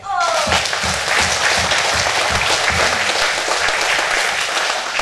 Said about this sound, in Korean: 한 박수 한번 드려요